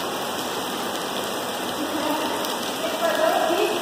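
Heavy rain leaks into a school classroom in Rorainópolis, Brazil, pattering and splashing indoors in a dense, even hiss with faint voices underneath.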